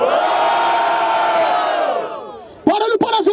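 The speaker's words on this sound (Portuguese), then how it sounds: "Barulho para as rimas do Akante" Crowd at the 73rd Batalha da Aldeia rap battle final in Barueri roars and cheers for a rapper's rhymes during the vote, a loud sustained swell that fades, then sharp shouted bursts of whoops.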